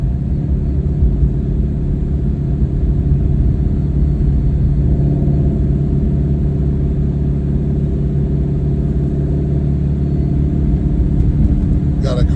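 Procharged Ford Mustang GT350 engine rumbling steadily while driving, a loud, constant low drone from inside the car with little change in pitch over the stretch.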